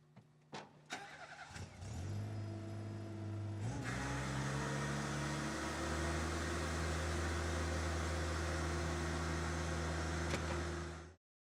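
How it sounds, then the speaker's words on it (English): An M20 industrial sweeper scrubber starting up after a few clicks, then a steady loud engine drone with a whining hum that continues unbroken and stops abruptly at the end. "start your machine, and lower the hopper"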